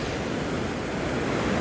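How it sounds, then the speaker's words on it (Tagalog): High-tide ocean surf rolls in as a steady, broad roar of waves, with some wind buffeting the microphone and no talking. "Sobrang laki ng tubig, high tide talaga."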